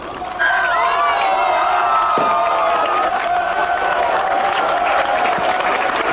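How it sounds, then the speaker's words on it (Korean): Coworkers who stayed after work give hearty applause to a returning runner, steady crowd clapping and cheering throughout while a voice talks over it. "퇴근을 미루고 자리를 함께한 직장 동료들은 힘찬 박수로"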